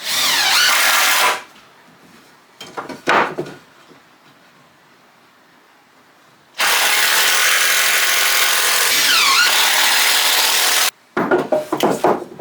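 A power drill drives 4-inch screws into wood for a beehive stand, heard as loud, close bursts of whirring and grinding, two long runs separated by short gaps and brief blips.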